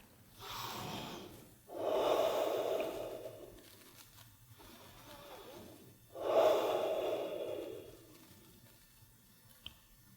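Slow steady breathing during a seated chair yoga twist, two long, close airy breaths several seconds apart with quiet pauses between them.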